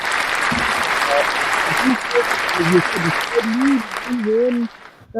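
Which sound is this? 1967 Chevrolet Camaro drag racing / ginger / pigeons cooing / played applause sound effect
played applause sound effect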